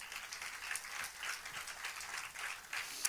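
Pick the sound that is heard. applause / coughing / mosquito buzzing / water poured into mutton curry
applause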